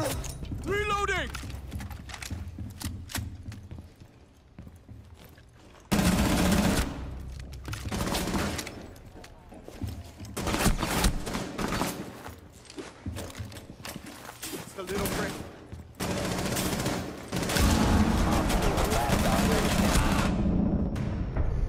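Rapid bursts of gunfire in a shooting video game come in loud stretches of firing with pauses between, under voices talking over the action.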